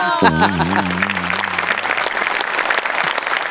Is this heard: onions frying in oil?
no